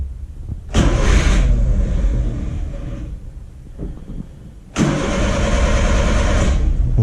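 A Suzuki Carry mini truck engine, left sitting overnight, cranks and fires up twice, each start settling into a steady, loud mid-pitched idle close by, with a brief quieter gap between attempts.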